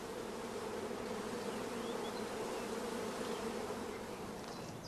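Honey bees from a shook swarm, shut inside a closed hive body, buzz in a steady, even drone that stays constant and fairly faint throughout.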